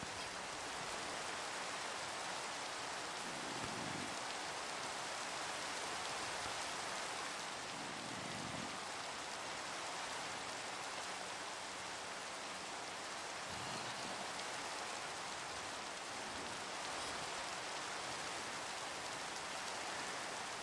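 Steady rain in the video game Minecraft, a constant wide hiss of falling drops that carries on evenly throughout, with a few faint low rumbles beneath and no voices.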